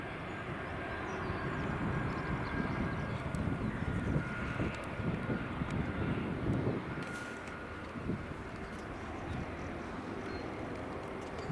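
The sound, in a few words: Airbus A320 airliner at Edinburgh Airport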